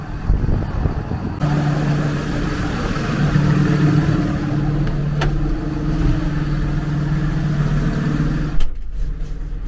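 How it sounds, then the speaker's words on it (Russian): A tractor engine idles steadily at close range as it is driven into a storage shed, a low constant rumble with a short, sharp knock near the end. "сейчас мы загоняем трактор в хранилище"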